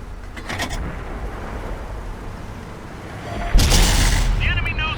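A heavy tank cannon in World of Tanks, on a 113 or Conqueror on the Karelia map, fires once as a loud sudden boom and leaves a rumbling tail over steady engine noise.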